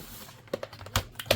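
Fitting the keyboard back into an Asus X505z laptop produces a few sharp plastic clicks and taps, scattered and close, with quiet pauses between them.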